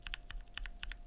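Mechanical keyboard fitted with lubed BSUN Glacier Panda linear switches, typed in a brief, quiet burst of paired keystrokes that sound soft and close.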